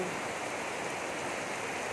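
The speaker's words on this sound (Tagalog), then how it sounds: "Ayan, lakas ng ulan." Dense, steady hiss of heavy rain pouring without a break, a constant wash of water noise.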